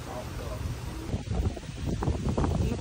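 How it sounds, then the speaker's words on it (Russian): Strong morning wind at a Florida hotel buffets the microphone with a steady, loud low roar and gusty rustle throughout, while someone talks over it. "Ветер сегодня такой."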